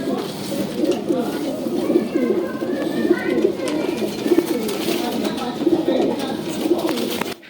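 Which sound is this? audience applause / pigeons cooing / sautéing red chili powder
pigeons cooing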